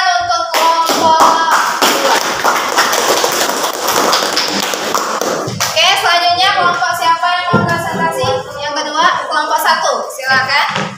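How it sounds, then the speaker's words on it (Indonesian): A class of students applauds a group of classmates after their presentation. Claps and taps come steadily, with teacher and children talking over them throughout. "beri tepuk tangan untuk kelompok 2"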